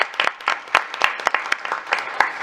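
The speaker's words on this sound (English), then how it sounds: "we'll still give her a round of applause." Round of applause from the audience at a school board meeting, many hands clapping in a dense, steady patter with brief louder peaks.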